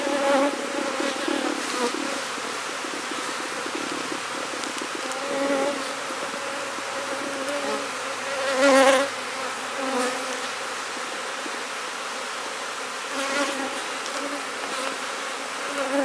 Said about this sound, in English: Give it another shake of bees.